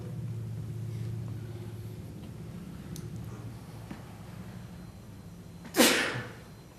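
A single sharp sneeze bursts out at a public county board meeting over low room rumble and hum, loud and sudden against the quiet background.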